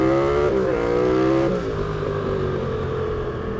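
A turbocharged Yamaha MT-07 motorcycle accelerates hard with wheel spin during 0-60 mph testing, a loud close engine roar rising in pitch, then shifting and droning on steadily.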